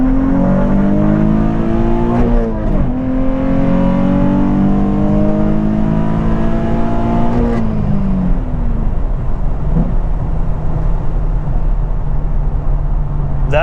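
A Nissan 350Z running anti-lag in second gear revs hard and loud, with rising and falling engine tones, crackles and a sharp pop around midway before settling into a steadier drone.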